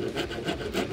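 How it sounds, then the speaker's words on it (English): A file rasping down a wooden triangle on a dresser, close, rhythmic back-and-forth strokes at a quick steady pace with no talk. "So I started filing down the first triangle,"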